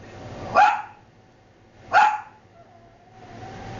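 A dog gives two sharp, separate barks about a second and a half apart, fairly close and loud indoors, with a fainter yip trailing at the end.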